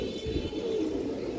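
A pigeon of a flying breed coos once, a low, soft, steady call held close by in a quiet room, with no talk over it.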